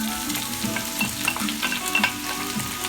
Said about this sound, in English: let's start pan fry the onions